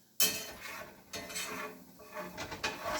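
Flour being stirred into sausage gravy in a pan, a spoon scraping and knocking against the pan in uneven strokes with a soft sizzle underneath.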